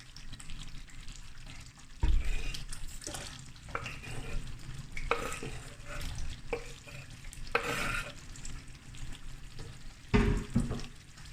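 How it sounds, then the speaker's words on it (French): Onions fry in heated oil in a pan, a soft sizzle under intermittent stirring and scraping strokes, with several sharper clanks of a utensil against the pan. "nous allons faire chauffer de l'huile. Pour griller nos oignons."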